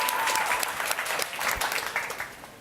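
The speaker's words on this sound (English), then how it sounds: "let's give her a round of applause" An audience at a forum in Montreal gives a round of applause, steady close clapping that fades slightly toward the end.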